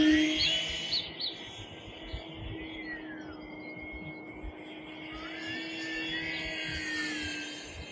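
An E-Flite Maule M7 RC plane with a wooden 10x6 propeller drones steadily in flight at moderate distance, with a sustained engine tone that rises and falls gently as it passes overhead, and birdsong chirps over the top.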